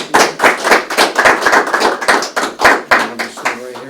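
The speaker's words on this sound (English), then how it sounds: "Let's give Jimmy a round of applause." Audience at a citizen-of-the-year award ceremony applauds, a close burst of uneven individual claps from a small crowd, loud and continuous with no talking.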